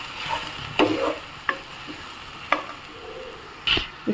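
Onions frying in a pan for Punjabi chole, stirred now and then, with a steady soft sizzle broken by several sharp scraping clicks of a spoon against the pan; no talking.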